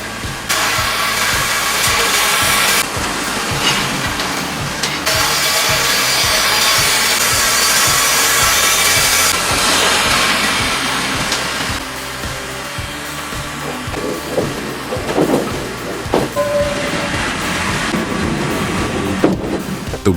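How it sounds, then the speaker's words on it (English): A wood chipper with multiple sharp blades crushes and shreds wood, a loud continuous grinding roar with rough chopping bursts and surging load changes throughout, no voices. "The wood crusher is equipped with multiple sharp blades, allowing for fast and efficient cutting and grinding."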